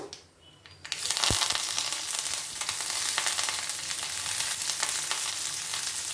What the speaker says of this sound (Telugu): కొంతసేపు వేగనిద్దాము ఈ పచ్చి పచ్చిగా ఉండేది పోయేంతవరకు వేపుకుంటాం